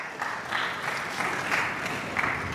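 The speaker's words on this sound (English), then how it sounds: "Let's clap for her as she comes." A conference audience at a student event applauds a speaker walking up, a steady dense wash of many hands clapping at once, sustained throughout and fairly loud with no clear talk on top.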